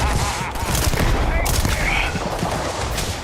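A shotgun fires in a Starfield space-combat game, loud dense bursts of gunfire running continuously under the action with brief spikes of impact.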